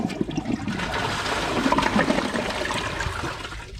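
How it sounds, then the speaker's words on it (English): A 2020 Kohler Wellworth Class 5 dual-flush toilet doing its big flush, with a steady loud rush of water swirling and draining for several seconds close by, easing slightly at the end. "Here's the big flush."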